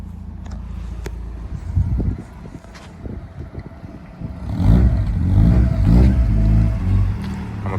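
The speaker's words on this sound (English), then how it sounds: "Here's Nick driving" A Mazda Miata fitted with a Momo steering wheel is driven and accelerates, its engine revving up in a rising drone over steady road and wind noise, loudest in the second half, with no talk.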